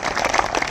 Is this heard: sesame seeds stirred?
no